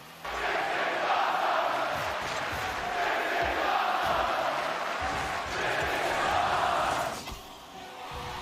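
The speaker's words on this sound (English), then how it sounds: "the crowd going wild" A crowd roars continuously during a Rocket League esports match between Big Dreams and Evolve, a loud sustained cheer that swells and fades, with commentary underneath.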